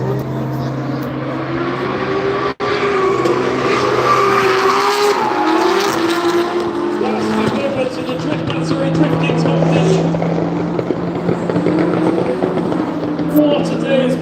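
Drift cars at Silverstone Japfest screaming past flat out, engines howling with tire squeal and a brief cut, loud and continuous with a commentator talking over the action.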